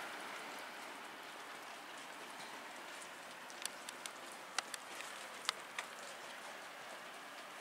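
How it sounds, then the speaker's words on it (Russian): Rain falling outside at night at 2 a.m., a faint, steady hiss of rainfall with a few sharp, isolated drip ticks scattered through the later half, heard alone without speech. "А сейчас уже идет дождь."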